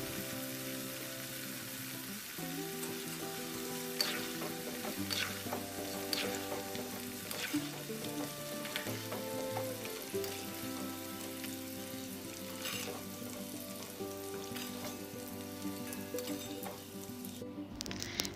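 Sarkara varati, banana pieces being deep-fried for an Onam sweet, sizzle and bubble in hot oil with a steady, dense crackle. There are occasional soft stirring clinks, and the sound runs close and continuous throughout with no talk.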